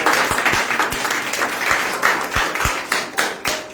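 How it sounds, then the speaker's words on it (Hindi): An audience at a church sermon claps steadily in a dense, sustained round of applause, with a few sharper individual claps standing out throughout. "आपकी तालियां बताइए, आपको समझ में आ रहा है?"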